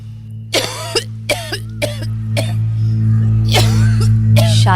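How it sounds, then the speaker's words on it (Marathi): Series of short, sharp dry coughs from a woman, six or so bursts spaced irregularly over a steady low electrical hum, close and fairly loud. "सुकी खोकली ती"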